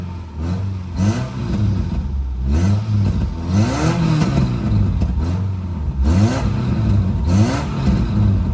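A car engine revs hard again and again, loud and close, with a roaring exhaust and some clatter as the revs rise and fall in repeated surges.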